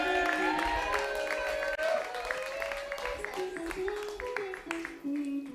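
Applause and cheering from the crowd at a live music night as performers are brought on, mixed with sustained voices and tonal sound over the top, moderately loud and continuous throughout.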